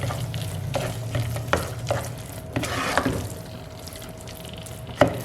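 Khoya being stirred into carrot halwa in a pan, a spoon scraping and turning the thick mixture in repeated strokes, with a faint sizzle underneath and occasional sharper clinks, close by.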